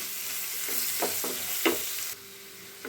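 Crushed ginger and garlic sautéing in hot oil for a dates pickle, a close sizzle broken by several short scraping stirs before the sound drops to a quieter hiss.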